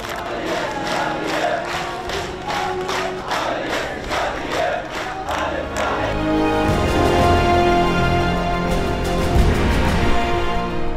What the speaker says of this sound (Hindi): जो लोग लाशों को दफनाने आए थे वो तालियां बजाकर नारे लगा रहे हैं